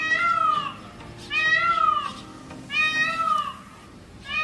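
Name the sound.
Indian peafowl making a cat-like meow call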